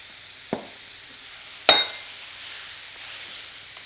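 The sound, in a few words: mushrooms sizzling while stirred in a pan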